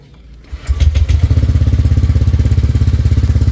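A Honda Click 125 scooter, set up at 160cc, starts and settles into a loud, close, rapid putter as it warms up, a steady rhythmic idle after a brief quiet moment.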